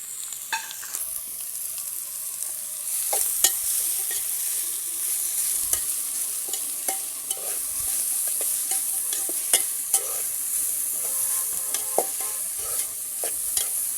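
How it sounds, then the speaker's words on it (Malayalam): Onions and green chillies frying in a pot over a wood fire for a beef curry, with soft continuous sizzling and scattered scraping clicks of a spoon stirring, close and without talk. "സവാളയും പച്ചമുളകുമാണ് ഇട്ട് കൊടുത്തേക്കുന്നത്. നന്നായി ഒന്ന് ഇളക്കി കൊടുക്കാം."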